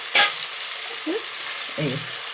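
Onions sizzle softly in a pan for egg curry while a spoon scrapes and stirs them in a few brief strokes, with occasional faint vocal sounds.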